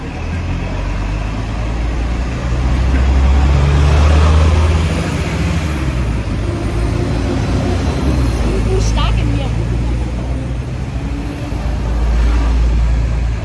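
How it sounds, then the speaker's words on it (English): Street traffic in Hong Kong, with a car passing by on a busy roadway; a steady low engine rumble swells near the middle and fades, with a hiss of distant traffic throughout. "So just give me a moment for the car to pass."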